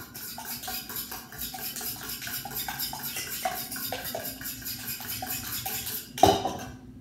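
Blintz batter being mixed by hand in a bowl, with a utensil clinking and scraping against the sides in a steady, close rhythm and one sharper knock near the end.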